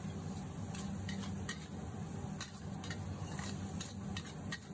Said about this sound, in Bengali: আস্তে আস্তে সুন্দর করে রাইসটি ফ্রাই করতে হবে